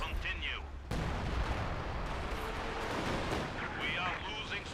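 Shells from an artillery barrage strike in the World War II strategy game Company of Heroes 2 with heavy, rumbling detonations over continuous battle noise, and quieter sounds like distant voices come and go at the edges.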